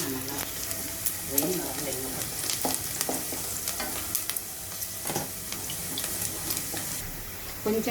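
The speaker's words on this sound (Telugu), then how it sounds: "2 వెల్లుల్లి సన్నగా కట్ చేశాను, వేసేద్దాము. ఇలా కొంచెం వేగనిద్దామండి." Thinly sliced garlic fries in a pan with a steady sizzle, stirred now and then with scraping clatter from the utensil, close up and moderately loud.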